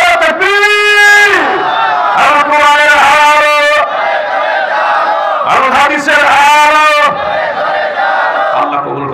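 Large crowd at a Bengali Islamic sermon answering a takbir call with repeated loud unison shouts of Allahu Akbar, three or four strong swelling chants in quick succession.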